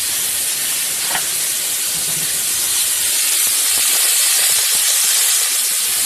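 Thick steaks searing in smoking-hot butter in a pan give a steady, loud broadband sizzle that hisses on without pause from start to finish.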